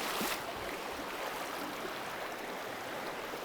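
Water rushes steadily through a remote mountain creek, a constant broadband hiss heard close by and fairly quiet, with a brief splash near the start.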